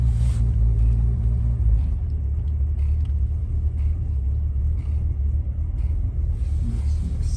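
A 1978 Jaguar XJ6 drives along with a steady low engine rumble and road noise heard from inside the car, with no voices.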